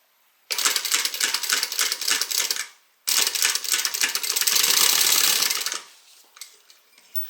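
A sewing machine stitches up a Harumi bag along its hardware: two rapid, rattling runs of stitching, the second longer, separated by a brief pause, then trailing off into quieter handling sounds.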